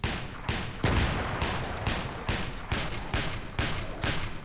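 Rapid series of heavy grenade blasts and gunfire thuds during the helicopter boss fight in the video game STALKER Thorny Way, about eight loud bursts in an uneven rhythm filling the whole stretch.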